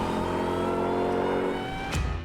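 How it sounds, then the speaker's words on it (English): Supercharged Dodge Durango engine revving, its steady tonal whine and deep drone holding loud and close, then dipping briefly before surging again near the end. "if you love the sound of a supercharger whine,"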